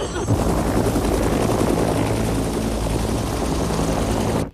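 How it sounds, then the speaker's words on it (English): Helicopters flying overhead during a political crisis, a loud continuous rotor drone with steady low thumping that fills the whole clip before cutting off abruptly at the end. "Where did the helicopters come from?"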